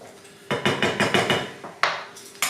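Metal whisk clattering rhythmically against a pan while stirring a light gravy sauce, a run of quick sharp taps followed by a few separate knocks, close and clear with no talk.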